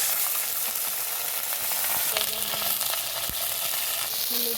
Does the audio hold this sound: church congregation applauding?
no